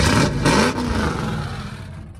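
An American diesel car's engine revs hard at a car show in Blackpool, a loud, roaring burst close up that surges and then settles back into a rumbling idle.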